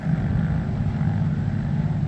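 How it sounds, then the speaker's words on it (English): Several small scooters passing a homestead: a steady low engine drone that holds even throughout, moderately close, with no voices. "A bunch of little scooters going by."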